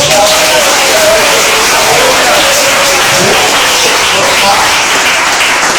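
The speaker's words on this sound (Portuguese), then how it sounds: "Então, palmas para Jesus." Church congregation clapping and cheering together in praise of Jesus, a dense, loud, sustained wash of applause with voices shouting over it throughout.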